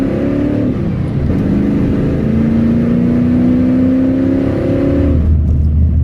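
A car engine revs and holds steady at high speed, loud and close, its pitch climbing slightly and then settling before dropping away near the end.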